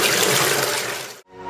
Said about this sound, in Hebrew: שירותים